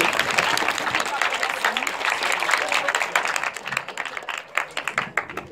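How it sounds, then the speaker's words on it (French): An audience at a civic discussion event applauds a speaker, dense clapping that thins into scattered individual claps toward the end, with some voices underneath. "Vous pouvez applaudir Monsieur Miliasso"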